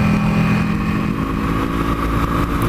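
Ducati Panigale motorcycle engine running on a spring day out on the road, a loud, steady droning roar that holds constant without breaks.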